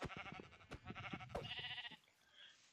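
Sheep bleating in a Minecraft-style survival video game, several quick, close, nasal bleats in a row with clear digital tone, ending abruptly into near silence.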